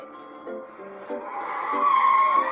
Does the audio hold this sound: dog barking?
no